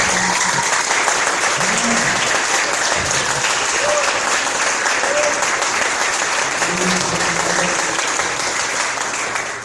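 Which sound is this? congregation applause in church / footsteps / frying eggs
congregation applause in church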